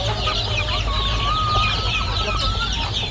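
Free-range native chickens cluck and squawk continuously in a busy farm flock, with a low steady hum of background noise underneath.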